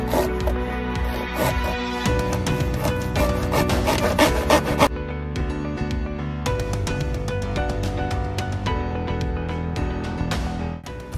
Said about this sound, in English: See what this drywall knife can do.